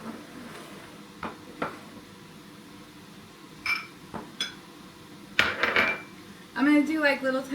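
A knife slices peppers into small strips on a board, making scattered sharp clacks and taps that build into a quicker run of clatter near the end.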